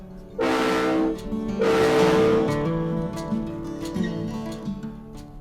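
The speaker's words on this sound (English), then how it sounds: "We're throttling up and slowly start moving again." A real diesel locomotive throttles up in first gear with its brakes released, a loud horn-like tonal blast rising twice over a rumbling engine drone that settles into a steady, building hum as it starts to roll.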